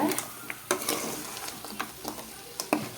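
Masala-coated crab fries in a pan for crab curry, a steady close sizzle broken by several sharp scraping stirs of a spoon against the pan, with no talking.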